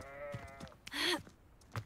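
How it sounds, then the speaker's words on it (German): A sheep in the video game Hogwarts Legacy gives a clear wavering bleat, followed by a short breathy noise and faint thuds, close and moderately loud with no talk. "Ja, das Schaf hat zugestimmt."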